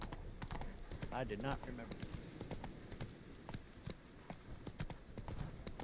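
A horse galloping in The Witcher 3, steady rhythmic hoofbeats running throughout at moderate volume, with someone talking over them.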